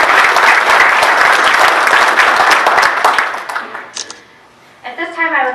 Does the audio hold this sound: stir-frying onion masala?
no